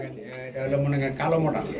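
Modena pigeons, including a male, cooing in low, throaty, wavering tones close by, with a voice talking over them.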